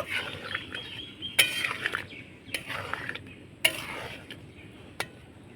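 A metal spoon clinks against a pot while lukewarm milk is stirred into malai, several sharp separate taps and scrapes over quiet background hiss, no talking.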